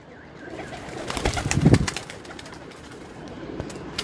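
Pigeons on a rooftop coo softly in a short, low murmuring burst that swells in the middle and fades, heard close with faint background noise and no talking.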